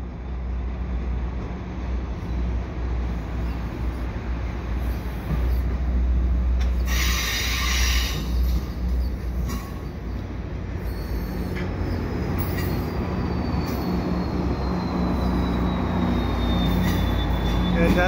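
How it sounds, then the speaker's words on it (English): An EXO commuter train rolls beneath the REM viaduct by the Lachine Canal in Griffintown, Montreal, backing in toward Central Station with a continuous loud rumble, clattering wheels and a brief high squeal partway through. "Looks like a EXO train here coming through the pillars at the Lachine Canal with the REM"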